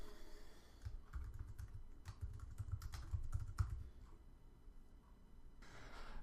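Typing on a computer keyboard while writing code in Xcode, a quiet run of irregular close key clicks and taps in bursts, with a short pause before the clicking resumes.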